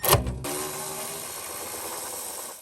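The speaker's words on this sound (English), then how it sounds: "I'm going to zip them out with my Milwaukee ratchet in a deep 10mm socket and a 3-inch extension." A Milwaukee electric ratchet with a deep 10mm socket on a 3-inch extension removes 10mm nuts under an FJ Cruiser during automatic transmission removal; a sharp click opens a steady, close whirring motor hum that runs then tapers.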